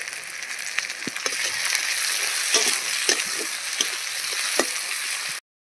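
Chopped tomato hits hot oil in a pan for a rohu fish curry, sizzling loudly and continuously while a utensil scrapes and stirs, then cutting off abruptly.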